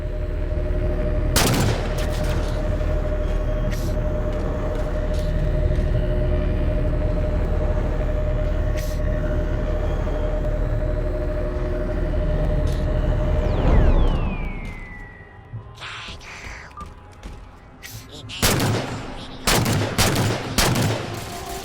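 Rapid bursts of gunfire in the Halo 4 mission Shutdown, a dense sustained barrage for most of the stretch, then sharp scattered shots after a lull, loud and close.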